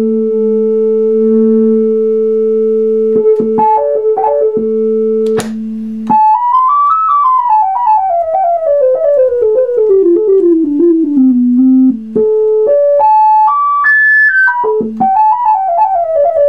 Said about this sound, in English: Now let's go to the filter. We'll make it self-oscillate here.